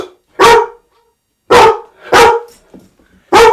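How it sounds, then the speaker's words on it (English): A dog barks at a delivery arriving at the front door, four loud, sharp barks close by with short pauses between them and a faint whimper near the end. "I need to excuse the dog."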